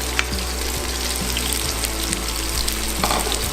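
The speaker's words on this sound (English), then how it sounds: "I'm just going to add in the onions, and we're going to fry the onions here" Onions frying in about three tablespoons of oil in a pan for Jamaican curry chicken, a steady loud sizzle with small crackles and occasional stirring, no talk.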